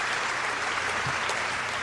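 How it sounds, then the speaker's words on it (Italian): Steady applause from a crowd fills the space, a dense even patter of many hands clapping continuously. "Eccolo qua, è arrivato l'applauso."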